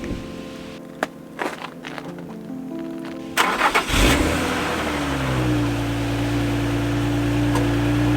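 A stock Nissan 350Z with its factory muffler is cranked over with a few clicks and starter whirs, then catches and fires up loudly, settling into a steady idle close by.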